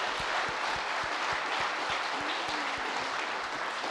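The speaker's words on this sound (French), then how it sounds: "On peut l'applaudir, non?" Steady audience applause fills the hall at a French federation meeting, a dense continuous wash of clapping without pause, with faint low thumps recurring underneath throughout.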